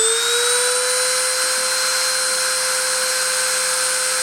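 A machine spindle spins steadily at a high pitch, about 30,000 RPM, during a deposition process, holding a constant, loud whine with a rising tone at the start and no talking.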